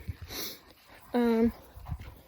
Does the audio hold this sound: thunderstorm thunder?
no